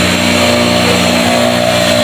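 A heavy-duty pressure washer motor runs while drawing in water, giving a loud, steady mechanical drone with a constant hum throughout and no break or change in pitch.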